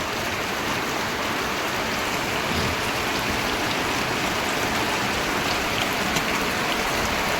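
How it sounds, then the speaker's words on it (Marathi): Heavy rain that has poured for an hour pounds down in a dense, steady hiss, continuous and even throughout with no voices. "एक तास झाला पाऊस चालू आहे आमच्याकडं"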